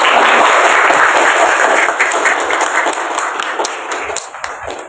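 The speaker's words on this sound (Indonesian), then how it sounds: "Tepuk tangan dulu." Loud applause from a crowd at an elementary school event, dense clapping that fills the whole stretch and gradually thins toward the end.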